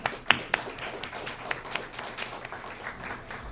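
An audience at a school Student of the Month ceremony applauds its sponsors, scattered sharp claps near the start settling into light, uneven clapping that fades over a few seconds.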